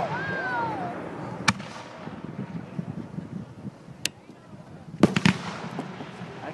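Fireworks at the Pathfinder display in 2012 go off in a few sharp, separate bangs and crackling pops over a low outdoor rumble, with a faint voice near the start.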